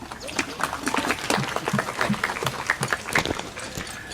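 A crowd applauding at an outdoor trail reopening, a dense patter of clapping hands that holds steady for several seconds, moderately loud.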